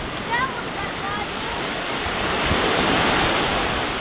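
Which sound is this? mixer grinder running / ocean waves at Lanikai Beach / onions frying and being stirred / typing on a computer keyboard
ocean waves at Lanikai Beach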